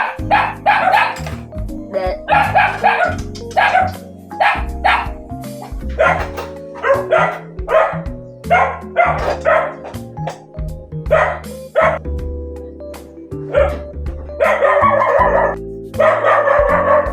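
Dogs bark repeatedly in loud, irregular bursts, several voices overlapping close by, with brief pauses between volleys.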